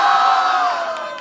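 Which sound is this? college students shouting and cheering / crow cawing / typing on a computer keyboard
college students shouting and cheering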